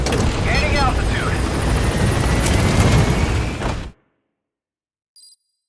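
A helicopter gains altitude in Metal Gear Solid V with a loud, throbbing rotor roar and engine whine. The sound cuts off abruptly partway through, leaving silence broken by one brief electronic chirp.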